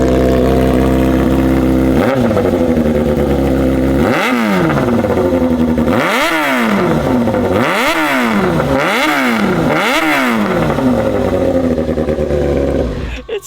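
A quad bike engine is started and then revved, settling into a loud, close idle before rising and falling through about five sharp throttle blips in a steady rhythm, with no talking over it.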